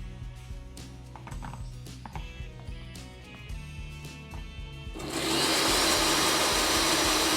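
A kitchen blender pulses béarnaise sauce ingredients with salt and pepper, first with some clicking and mechanical rattling, then one loud sustained whirring run for the last few seconds.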